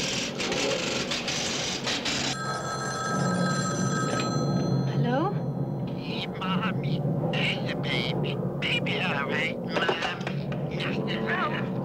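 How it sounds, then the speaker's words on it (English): A telephone bell rings in a 1970s film trailer scene, a bright repeated electric ring in bursts near the start, with people talking over and after it and background sound throughout. "Your phone's ringing."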